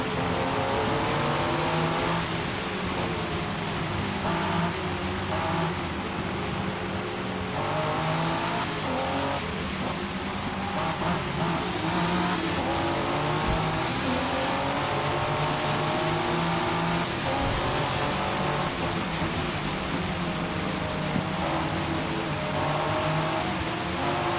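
Ford GT race car in Forza Motorsport 6 racing against other cars, a loud continuous engine whine rising and falling through gear shifts, with brief tire squeals as it corners.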